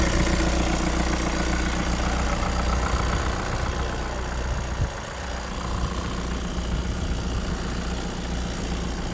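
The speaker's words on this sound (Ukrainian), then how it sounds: "Ось так працює двигун." A used commercial van's engine idles steadily at a car market, close by, with a low rumbling hum and faint vibration that barely changes throughout.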